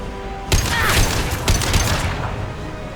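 Gunfire in the video game Mass Effect 2, a burst of sharp shots starting abruptly and continuing as a dense rattling volley for about a second and a half, then tapering off.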